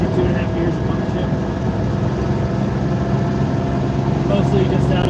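A Lamborghini Countach is heard from inside while driving, with a steady, droning engine rumble and mechanical whir filling the cabin at constant volume, and no music playing.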